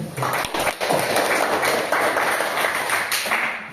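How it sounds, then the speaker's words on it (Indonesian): Audience applause after closing thanks at a school positive-culture project presentation, a steady dense patter of clapping lasting the whole stretch with a few sharper claps near the start. "tepuk tangan untuk kita semua"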